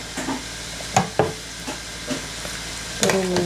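Peppers being stirred in a pot with sugar and salt for zucchini lecho, a low sizzle punctuated by a handful of sharp scraping stirs and clanks against the pot, close and with no talking.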